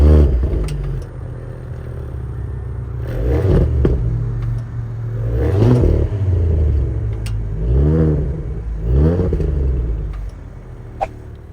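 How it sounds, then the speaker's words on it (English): A 2023 Audi S5 Sportback engine is revved while stationary, four deep, rising-and-falling blips separated by a low steady idle rumble, heard up close with no talking. "Now let's hear how this engine sounds."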